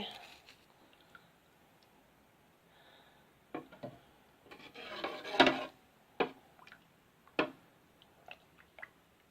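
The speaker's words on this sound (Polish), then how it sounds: "i teraz to wszystko mieszam" Tomato soup stirred in a pot, a spoon scraping and clinking against the sides in a few short, sharp knocks with a brief louder rattle in the middle, close and fairly quiet.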